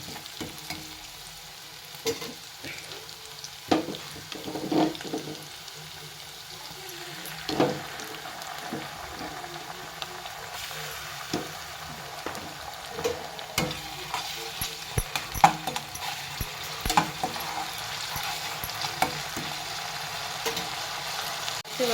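Frying in oil while cooking egg rice gives a low, soft sizzle under repeated clinks and scrapes of a spoon against the pan, spread irregularly throughout.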